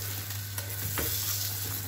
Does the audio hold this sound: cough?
no